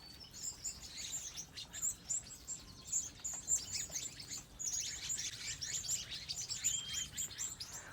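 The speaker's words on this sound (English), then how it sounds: "I hear the doves. The birds are right here in front of me. I have spice finches and everything." Wild birds in a backyard garden, among them doves, spice finches, white-crowned sparrows, English sparrows and towhees, keep up a dense, continuous stream of high chirps and tweets, fairly close and lively throughout, with no talking.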